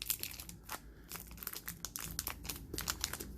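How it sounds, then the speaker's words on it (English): Crinkling and rustling of a 1994 Fleer Ultra Football wax pack as the trading cards inside are loosened, a dense run of close, crisp crackles and small tearing sounds with no talking. "let's try and loosen up those cards a little bit"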